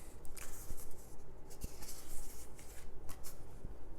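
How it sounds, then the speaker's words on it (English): Plastic seal being peeled off a boxed set of lobby cards, giving close crinkling and rustling with a few sharp crackles over about four seconds, no talk. "Pull the seal off there."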